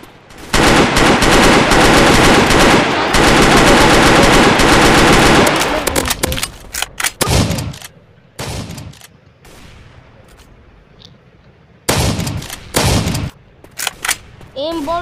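Rapid automatic gunfire from a gun in a mobile shooter game, loud continuous bursts for about six seconds, then shorter separated bursts and single shots with brief pauses.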